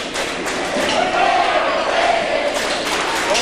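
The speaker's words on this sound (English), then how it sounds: "Miami Trace is going with the overrated cheer." Crowd at a 2003-04 high school boys basketball game between LHS and Miami Trace chanting the overrated cheer, a steady loud mass of voices held throughout with a slight swell in the middle.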